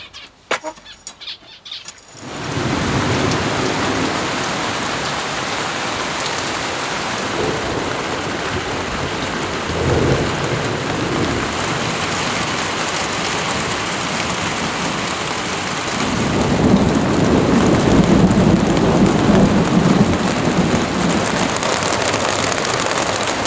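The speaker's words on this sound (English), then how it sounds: "But later, all this cute weather turned into a heavy storm." Heavy thunderstorm: after a brief quiet start, loud, steady downpour roars for the rest of the clip, swelling near the end, with low thunder rumbles rolling underneath.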